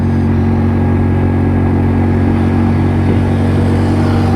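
AJS Modena scooter pulling hard under power on a hill climb, a loud, steady engine drone with a constant low hum filling the whole stretch, close up and without any talk.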